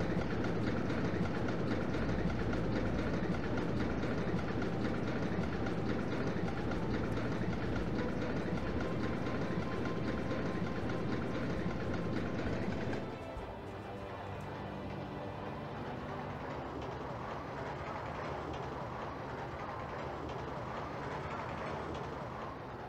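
A bobsled roller coaster train rumbles steadily along its track in the OpenRCT2 video game, a dense continuous roar that drops to a lighter rattling run partway through.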